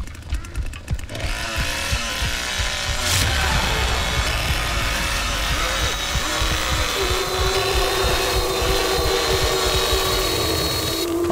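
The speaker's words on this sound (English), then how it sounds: "I revved the chainsaw to death right there." Leatherface's chainsaw in The Texas Chain Saw Massacre game revs continuously for about eleven seconds, a loud, gritty, buzzing engine roar that holds steady with slight surges and never drops away.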